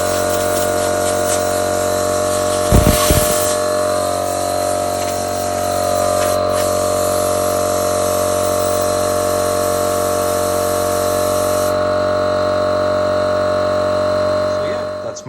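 A Kobalt LK20175 electric air compressor runs continuously, a loud, steady motor hum with a strong tonal drone and a brief clatter near the start, close up and unbroken for the whole stretch.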